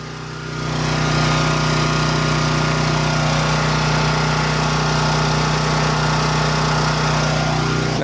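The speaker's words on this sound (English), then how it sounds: "I turned it on up to 1500 watts. You can't even notice this generator didn't even bog down." Champion dual fuel generator running under a 1500 watt load, a loud steady engine drone with a strong low hum that ramps up in the first second and then holds constant and close.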